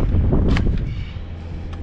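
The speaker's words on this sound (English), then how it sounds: "Sorry about the wind." Wind buffets the microphone outdoors beside a 1962 Cadillac parts car with a heavy, low rumbling roar that gusts and then eases slightly, with faint rustling on top.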